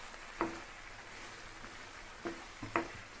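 Drumstick leaves being stirred in a pan, heard as a faint, soft sizzle with a few sharp scraping clicks at scattered moments.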